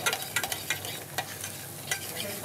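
Spoon stirring food in a pot, a cooking-show kitchen scene: repeated scraping and clinking strokes in an uneven rhythm over a steady sizzling, frying background, close and moderately loud, with no talk.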